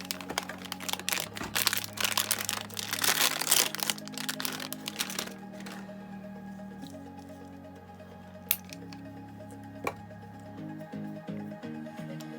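Protective film being peeled off a new Canon print head cartridge during replacement: a burst of close crinkling and crackling plastic, then quieter handling clicks and taps against a faint steady hum.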